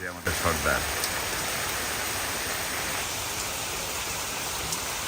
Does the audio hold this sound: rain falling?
yes